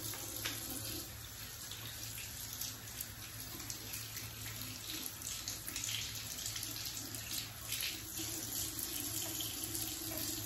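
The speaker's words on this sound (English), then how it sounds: "I'm gonna rinse it now and go back with the other brush" Steady running tap water pours into a sink while a skin brush is rinsed under it, a continuous close splashing hiss with no talking.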